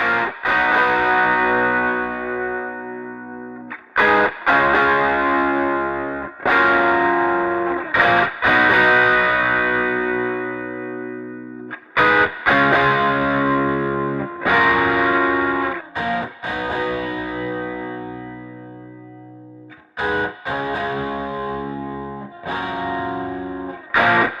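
Distorted electric guitar plays sustained chords with pauses between phrases, recorded with a Lewitt LCT 640 TS microphone, room sound hard-panned opposite the direct sound, sounding full and spacious with audible room ambience.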